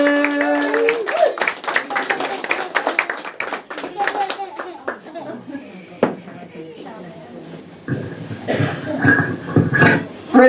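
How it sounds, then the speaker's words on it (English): An audience at a comedy show in Swaffham gives a loud burst of hand clapping that fades after a few seconds, followed by voices speaking and a little more scattered clapping near the end. "Keep the applause going."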